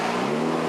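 A repaired Mitsubishi rally car pulling away from a service area at the 1998 Rally of Australia, its engine giving a steady, loud, close roar throughout the brief moment.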